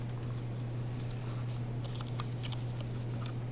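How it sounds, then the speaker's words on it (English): Paper being folded by hand, soft crinkling and creasing taps in quick succession over a steady low hum, close and quiet, with no talking. "now I'm going to fold every other one"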